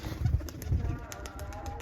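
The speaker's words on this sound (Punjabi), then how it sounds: "ਲਓ ਜੀ ਮਿੱਤਰ ਫੜਦੇ ਆ ਹੁਣ ਕਬੂਤਰ" Racing pigeons coo at close range, a few soft, low, throaty coos in a row, with some light background noise around them.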